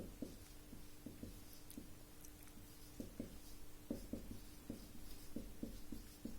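Chalk tapping and scratching on a classroom board during a maths lesson, faint irregular clicks and short strokes over a low, steady room hum.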